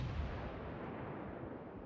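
The big main guns of the battleship Mutsu fire in a World of Warships match, giving one sustained, broad rumbling roar that fills the whole short moment and tails off slightly toward the end, with no voices.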